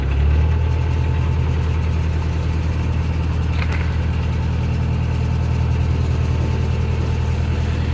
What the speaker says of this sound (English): I might as well get a couple of revs on.